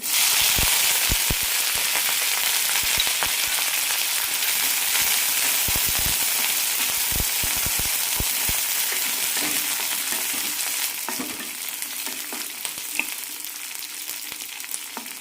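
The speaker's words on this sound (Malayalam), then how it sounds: "കടുക് പൊട്ടിക്കഴിയുമ്പോൾ കറിവേപ്പിലയും പച്ചമുളക് അരിഞ്ഞതും ഇടാം" Mustard seeds, curry leaves and chopped green chilies frying in a little hot oil, with a loud, continuous sizzle and scattered sharp pops of seeds bursting close by, easing slightly toward the end.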